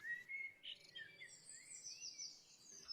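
Birds chirping and calling in a jungle setting, a faint sequence of high tweets and trills with a soft insect-like hiss beneath, no voices.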